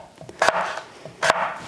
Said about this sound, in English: I will continue chopping up my apples